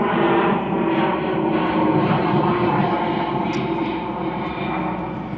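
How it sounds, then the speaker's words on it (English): A fixed-wing airplane passes overhead near Manchester Airport, a loud broadband engine roar that fills the whole clip and stays steady, close and continuous. "You can actually hear a plane passing over."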